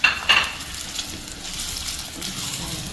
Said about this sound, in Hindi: प्याज डाल देते हैं और इसे गोल्डन ब्राउन होने तक कुक करते हैं